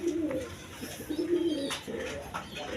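A pair of pigeons on a farm where chicks have just hatched, giving soft, low repeated coos in short throaty phrases, close but fairly quiet over faint background noise.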